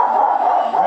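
A dog at a house during furnace blower motor work lets out a single drawn-out, close bark or yelp lasting under a second.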